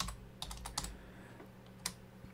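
Keys clack on a computer keyboard in a few short, quiet bursts of typing with pauses between, close and clear against a faint background hum, no voices.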